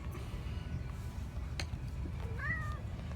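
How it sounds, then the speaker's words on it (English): A faint meow from a cat rises and falls once near the end, under steady low background noise, with a soft click earlier, during a coolant change on a Honda CB300F motorcycle. "a cat who shouldn't be here"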